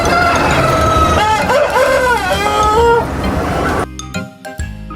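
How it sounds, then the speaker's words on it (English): Farm chickens cluck and call in short warbling notes, fairly close, over a dense background of music and noise. "Meet the chickens."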